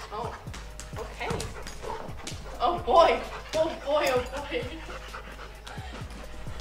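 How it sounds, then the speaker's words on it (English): A large young pet dog pants and gives a few short yips and whimpers at close range in a house, heard beneath people talking throughout. "If you guys remember when I surprised my mom with a dog, this is the dog."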